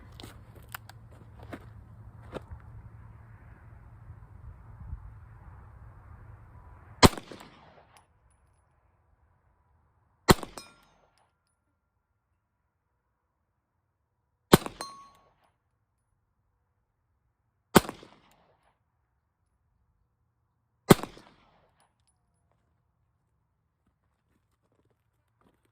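Five sharp, widely spaced CZ P07 pistol shots at a steel target 50 yards out, each a lone crisp crack with a brief ring, following a stretch of low rumbling background noise.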